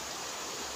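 River water flows in a steady, rushing hiss, brief and fairly faint, with no voices over it.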